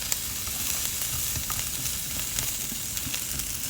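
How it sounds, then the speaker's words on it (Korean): Onions frying in oil in a pan preheated on high heat for stir-fried japchae, a steady close crackling sizzle that holds throughout with no talk. "이렇게 찌릿 소리가 나는 단계에서 양파를 볶아주셔야 양파의 기름이 잘 코팅되고"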